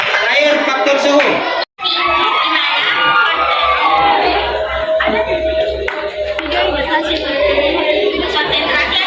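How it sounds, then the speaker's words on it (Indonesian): Classroom students applaud a student group, with continuous clapping mixed with cheering, whoops and shouting voices close by. "kita kasih aplaus untuk teman kelompoknya"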